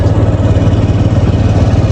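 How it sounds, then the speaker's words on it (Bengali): A steady, loud engine drone with a throbbing low rumble, like riding close on a running motorcycle, no voices. "আমরা বাইকে করেই যাচ্ছি।"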